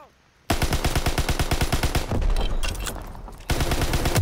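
PPSh submachine gun bursts in the Call of Duty WWII online Domination mode, loud rapid automatic fire in close repeated rounds, a short pause, then more sustained firing with game effects.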